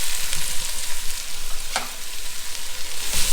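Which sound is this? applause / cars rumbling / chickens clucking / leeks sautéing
leeks sautéing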